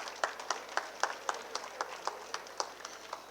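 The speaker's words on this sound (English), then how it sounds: "A big round of applause for dear teachers." Applause for teachers at a school event: quiet, distant clapping with faint individual claps landing in a loose, fairly even rhythm for a few seconds, no voices.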